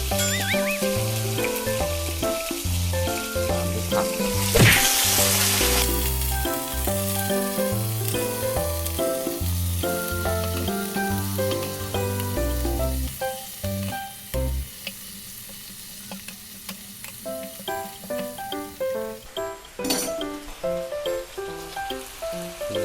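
Cabbage stir-fried in a pan with fish sauce, giving steady loud sizzling and frying with scraping stir strokes throughout, a sharp burst of hiss near the start, and quieter crackle toward the end.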